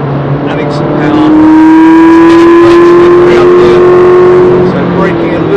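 A race car accelerates on the wet Brands Hatch Indy circuit, its engine note climbing steadily and loudly up close, with a sustained rising tone over rumbling road and spray noise.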